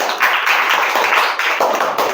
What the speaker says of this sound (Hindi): अंश के लिए तालियां हो जाए